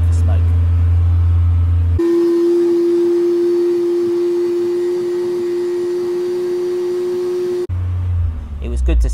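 A classic Mini's engine held at 2,500 rpm drones at an even pitch for several seconds, loud and close, with a brief rougher rumble before and after.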